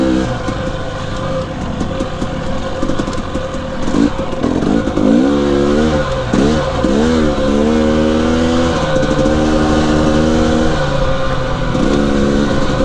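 A two-stroke dirt bike engine revs and climbs while riding single track trail, loud and close throughout, with pitch rising and falling through repeated throttle pulls and a steady rumbling undertone.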